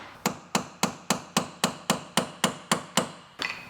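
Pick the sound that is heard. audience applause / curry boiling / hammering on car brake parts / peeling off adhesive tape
hammering on car brake parts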